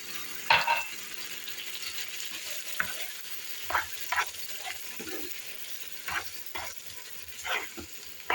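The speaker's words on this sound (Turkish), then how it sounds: "İç harcım pişsin, kabaklarım kızarmaya devam ediyor." Zucchini fry in a pan while a minced-meat filling cooks beside them. Soft, steady sizzling sits under scattered clinks and scrapes from stirring.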